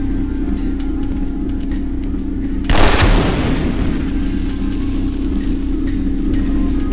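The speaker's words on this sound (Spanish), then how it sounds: "Más explosión." A single loud explosion bursts out in the PC video game 007: Nightfire, cutting through a steady background hum and decaying over about a second before the drone resumes.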